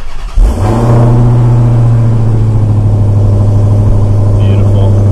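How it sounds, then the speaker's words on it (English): A Dodge Challenger Hellcat Redeye V8 cranks and catches with a sharp bark, then settles into a loud, steady, rumbling idle close by, heard alone. "Let's hear her start"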